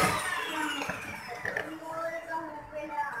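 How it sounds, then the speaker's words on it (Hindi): An electric egg beater whirs through cake batter mixed with ghee, its motor buzzing steadily at close range while a few scraping knocks break through the noise. "अब हम इसको एक दफ़ा फिर से बीट करेंगे।"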